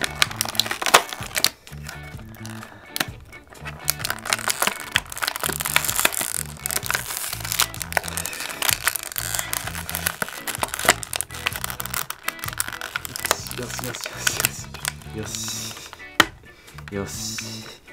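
Hands prying open a very sturdy plastic blister pack around a Beast Wars Neo toy, with steady crackling, crinkling and snapping plastic close up under intermittent talk.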